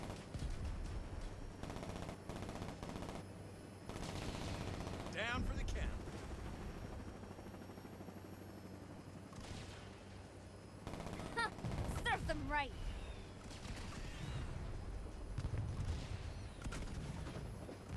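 Gunfire from the 2022 Saints Row video game, bursts of shots at moderate loudness mixed with game noise and effects across the stretch, with talk in places.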